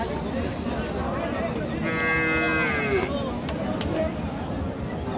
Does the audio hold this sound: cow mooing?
yes